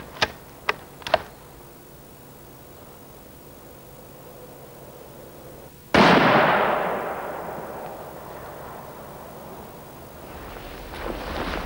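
A gunshot hits an Optima car battery: a few faint metallic ticks come first, then a single loud, close bang that rings out and decays over several seconds, with no talking.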